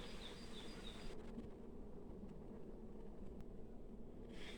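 Honey bees hum in a low, continuous drone at a beehive, faint and steady, with occasional light knocks, the buzzing alone with no voices.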